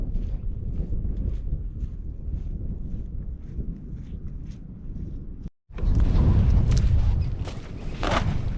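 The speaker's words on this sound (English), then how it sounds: "Pretty windy." Strong wind gusting outdoors on a fishing trip, a steady loud rumbling buffet against the microphone that cuts out briefly, then returns harder and denser.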